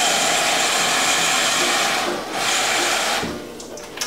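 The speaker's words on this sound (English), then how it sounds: "I just top it up with water." Tap water pours steadily into a soup pot of butternut squash soup, a loud continuous rushing hiss that dips briefly and then tapers off near the end.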